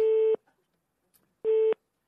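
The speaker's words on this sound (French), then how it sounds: "Ça sonne déjà chez Monsieur Sprunk" A telephone rings twice on a radio phone call, two evenly spaced electronic tone bursts separated by a second of near silence, clear and close.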